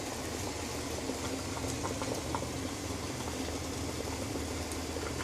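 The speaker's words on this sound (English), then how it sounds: "So this is the vigorous temperature that you can boil it at." Pot of water boiling vigorously with activated carbon cartridges inside, a steady dense bubbling roar with constant low rumble and fine crackling, close and even throughout.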